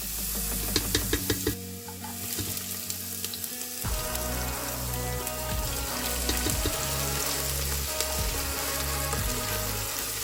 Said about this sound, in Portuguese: na panela de pressão, eu coloquei um pouco de azeite, alho, cebola e deixei dourar bem